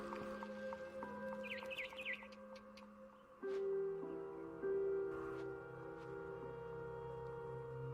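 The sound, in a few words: barn swallow chirping outside window, video game What Remains of Edith Finch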